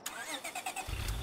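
In the video game State of Decay 2, a car engine starts, with a quick series of cranking whirs followed by a low rumble as the engine catches, close and alone.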